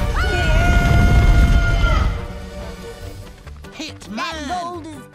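Animated cartoon characters scream loudly as they flee, with a long high shriek over rumbling noise and then a burst of overlapping wavering yells near the end.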